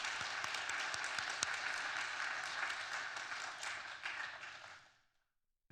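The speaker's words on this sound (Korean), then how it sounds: "우리 새가족부 여러분들에게도 큰 박수로 한번" Congregation applauding in a church during a worship service, a steady broad wash of many hands clapping together for several seconds before stopping abruptly into silence.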